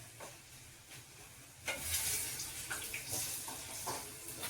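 Bitter gourd pieces frying in a pan for kakarakaya fry, a steady soft sizzle with occasional louder crackling bursts and light stirring, close up and without talk.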